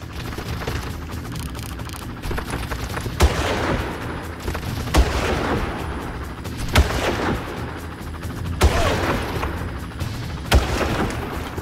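Gunfire hitting an enemy in the video game Far Cry: single heavy shots ring out about every two seconds over a dense, rumbling game background.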